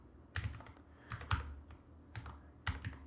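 Bursts of keystrokes on a computer keyboard while code is typed, several quick clusters of clicks close by with short pauses between them, no talk.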